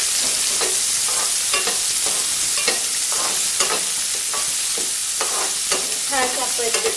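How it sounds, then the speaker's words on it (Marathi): Two large onions sautéing in a pan with curry leaves for Maharashtrian sanja, a steady close sizzle broken by repeated scraping stirs of a spatula, with no talk. "दोन मोठे कांदे छान असे आपण परतायला सुरुवात करू"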